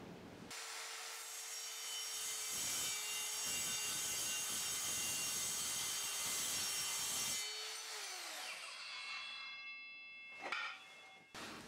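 An Evolution R185 multi-material circular saw with a 185mm TCT blade slices through 3mm mild steel plate with a loud, harsh grinding rasp. The motor then winds down with a falling whine, followed by a brief clunk.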